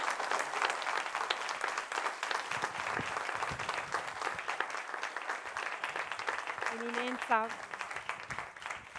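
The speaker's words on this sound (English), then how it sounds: "This applause says our profound thanks to you, Your Eminence" Conference attendees give a cardinal warm, continuous applause, dense clapping running throughout with a brief voice rising near the end.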